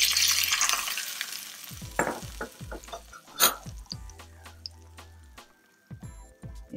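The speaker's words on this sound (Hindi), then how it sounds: "और ये जो हमने लाल मिर्च का देसी घी का तड़का बनाया है," Red chili tempering in desi ghee sizzles as it is poured over cooked sarson ka saag (mustard greens), with crackling spatters, sharp utensil clinks and stirring scrapes scattered over the hiss, close up and without speech.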